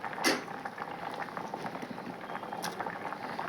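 Dal boiling in a pot before mango pieces go in, a close, continuous bubbling and gurgling with a few sharper clinks of the pot, no speech.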